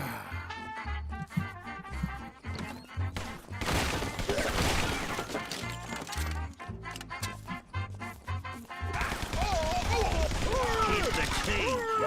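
Rapid gunfire from Guns Gore and Cannoli 2, with dense bursts of shots and machine-gun rattle mixed with game music and effects, loud and continuous throughout, while a player talks over it.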